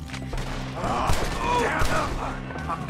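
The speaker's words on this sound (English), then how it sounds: "Shoot them where they stand." Gunfire in the video game Red Dead Redemption 2, a scattered exchange of shots, some sharp and near, mixed under frantic character voices.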